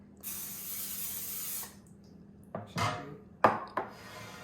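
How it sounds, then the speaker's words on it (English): A steady hiss of Pam cooking spray onto an air fryer pan lasts over a second, followed by a few clattering knocks of the pan being handled. "Spray it with some Pam so they don't stick to it."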